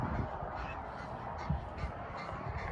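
A flock of ducks and geese calling, a continuous dense chorus of honks and quacks outdoors, steady and moderately loud throughout with no talk.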